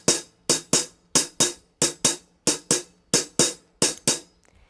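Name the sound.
drum kit shuffle beat with triplet hi-hat rhythm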